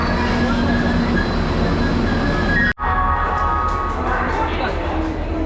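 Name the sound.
train arriving at the station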